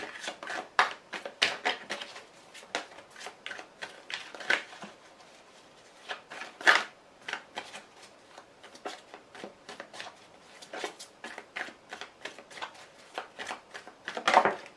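Tarot cards are shuffled in a quiet room, giving a long run of soft, crisp riffling flicks and light slaps in uneven bursts, close by and with no talking.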